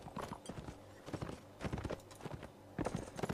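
Horse hooves clip-clop in bursts during a Napoleonic Wars video game line battle, loud and close at times, with gallops coming and going amid the fighting.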